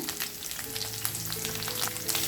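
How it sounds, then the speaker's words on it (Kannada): Garlic, curry leaves and green chillies sizzle in hot oil for a tempering, a steady close crackle and hiss with popping spatters and no voices. "ನೋಡಿ ಇವಾಗ ಫ್ರೈ ಮಾಡ್ಕೊಬೇಕು ಬೆಳ್ಳುಳ್ಳಿ ಸ್ವಲ್ಪ ಹಸಿ ವಾಸನೆ ಹೋದರೆ ಚೆನ್ನಾಗಿ ಬರುತ್ತೆ"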